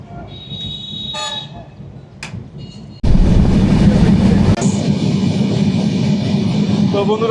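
Sundarban Express passenger train running out of Dhaka, a steady loud rumble of wheels and carriage that jumps up sharply partway through, with a brief horn-like toot early on and faint background voices.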